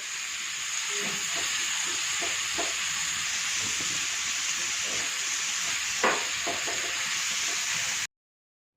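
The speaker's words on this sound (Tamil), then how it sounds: "இதை நல்லா வதக்கிக்கலாம்." Radish sizzles steadily in hot oil, with a few scattered knocks and scrapes of stirring in the pan, close and continuous.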